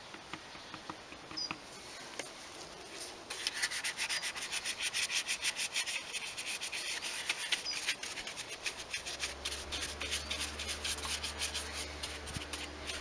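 A car's engine trim is rubbed down with Pro Clean Black Magic cleaner during a Nissan Micra service, giving a close, continuous scrubbing and wiping rasp with quick rhythmic strokes, later joined by a low steady hum.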